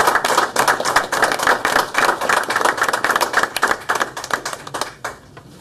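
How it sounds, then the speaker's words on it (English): Board members at a Harrisonville Board of Aldermen meeting applaud, a run of quick, fairly close claps in a steady rhythm that tapers off at the end. "I will stand and applaud you, as will this board."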